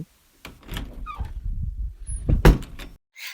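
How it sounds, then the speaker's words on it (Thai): Bedroom door pushed open as an audio drama sound effect: a few creaks and a wooden thud, with a soft rumbling swing in between, close and clear. "ทันทีที่ลียาผลักประตูเข้าไป"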